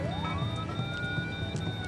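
A wailing ambulance siren rises and holds its tone over a dense, steady rumble of traffic, loud and continuous.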